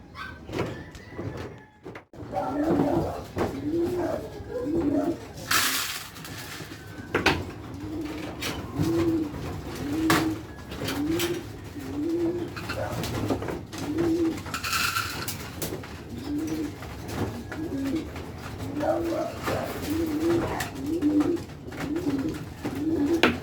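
Stock pigeons in a loft coo in a repeated soft rhythmic series, their low throaty calls continuing throughout amid occasional clatters and bumps.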